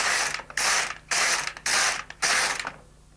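An LK150 knitting machine carriage is pushed across the needle bed four times, each pass a loud ratcheting, clattering rasp of about half a second, separated by brief pauses, close and without voices.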